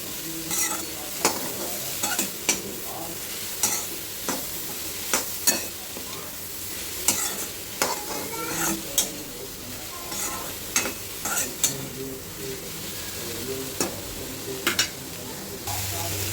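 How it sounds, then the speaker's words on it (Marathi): Onion and tomato frying in oil in a pan while being stirred, with a steady sizzle broken by repeated sharp scrapes of the spoon against the pan at an irregular rhythm, close and clear. "मी कांदा आणि टोमॅटो तेलामध्ये भाजून घेतलेला आहे"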